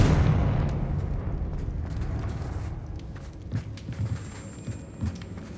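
Confringo blasting spell detonating in Hogwarts Legacy, a deep rumbling boom that decays slowly into a lingering low roar, followed by a few softer thuds and faint tonal chimes.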